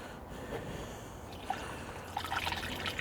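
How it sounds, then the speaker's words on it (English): Water trickles steadily into the radiator of an old barn-find car, a close, continuous pour and dribble that rises slightly in brightness toward the end. "Putting water in the radiator?"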